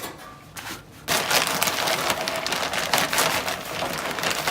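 Dry wood pellets poured by the handful onto a stainless steel tray set over a heat source for cold smoking, giving a loud, dense rattling patter like heavy rain that starts abruptly and keeps up steadily.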